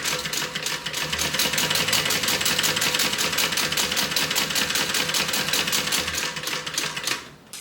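A sewing machine runs a fast, steady stitching rhythm along a bag seam, close and continuous for several seconds before stopping abruptly.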